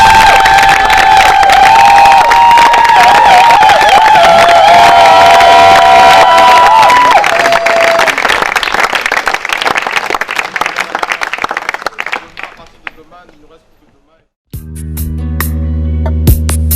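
A worship congregation claps and cheers loudly together, with a melodic line threaded through the early part; the ovation thins and fades out near the end before a separate musical passage begins.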